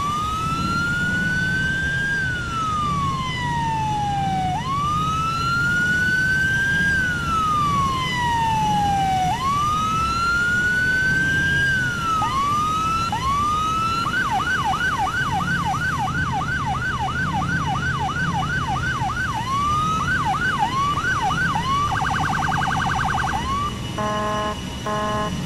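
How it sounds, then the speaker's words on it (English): A police siren blares up close in GTA 4, a slow rising-and-falling wail that shifts into rapid yelping cycles and then a quick pulsing tone, over a low engine rumble. "I have a brand new siren"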